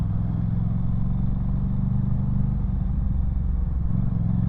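A 2022 Aprilia Tuono 660 motorcycle engine runs steadily close by, a dense low rumble with a throaty, pulsing character that holds level for several seconds, with no talking.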